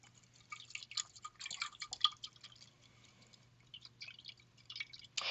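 Water is added drop by drop into a long, thin-necked flask while a solution is being made, giving a run of soft, irregular, close drips and small splashes over a quiet low hum.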